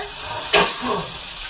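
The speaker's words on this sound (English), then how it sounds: "I'm just getting a sear on the pork" Pork tenderloin searing in a hot pan, a steady close sizzle with a brief louder burst of hiss and crackle partway through.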